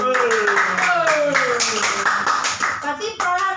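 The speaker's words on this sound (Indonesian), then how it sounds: "Tepuk tangan untuk kelompok 2." A school class claps together for a winning group during a review game, rapid rhythmic clapping with children's voices and chanting rising over it, close and loud.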